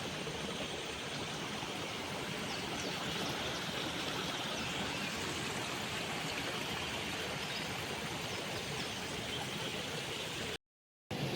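River water flowing steadily after rain has begun on a farm, a constant broadband rushing hiss with no breaks, faint and even throughout, with a brief silent gap near the end.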